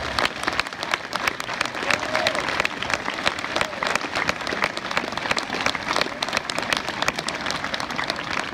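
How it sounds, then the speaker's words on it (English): A high school crowd gives loud, sustained applause to soon-to-be graduates at an Ivy Day ceremony, a dense, even clatter of clapping with faint crowd noise mixed in. "a thank you and a round of applause for our amazing soon-to-be graduates."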